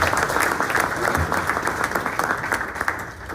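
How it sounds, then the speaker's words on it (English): An audience at a morning community breakfast event gives a round of applause, continuous full clapping from start to finish with some crowd murmur mixed in. "Let's give them a round of applause."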